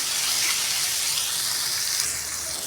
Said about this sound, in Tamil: வெங்காயம் கட் பண்ணி கொஞ்சம் நேரம் வதங்கட்டும்